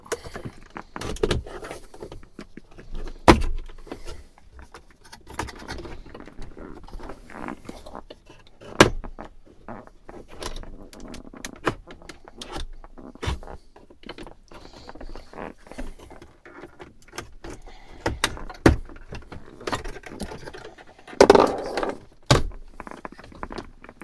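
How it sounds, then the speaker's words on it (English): A pry tool unclips the AC controller trim panel inside a car, giving a string of sharp plastic snaps and clicks spread over the whole stretch, close and irregular, over quiet fumbling. "we're going to want to use our pry tool again to disengage all the clips around this whole AC controller"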